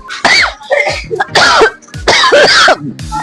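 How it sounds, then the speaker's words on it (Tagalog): Loud, close harsh coughs in a rapid series of bursts, raspy and strained, one after another without speech. "Hirapan ako sa ubo ko."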